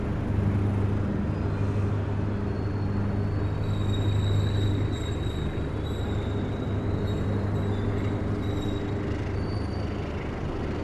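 Argo Bromo Anggrek express train pulling out of Madiun station, a steady low rumble of rolling wagons and wheels with faint high squeals, continuous and fairly loud throughout.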